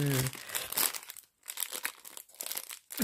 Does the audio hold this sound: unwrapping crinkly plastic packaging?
yes